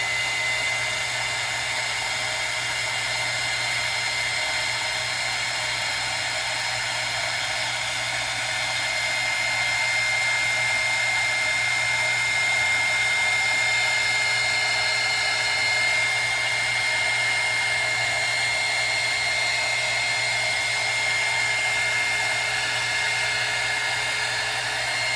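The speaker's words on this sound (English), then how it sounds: "I'm going to hit it a little bit with this heat gun first, because I need to make sure the area is dry." A heat gun blows hot air steadily over a surface being dried while making a reborn baby doll, a constant loud whooshing drone with a thin whine, unbroken for the whole stretch.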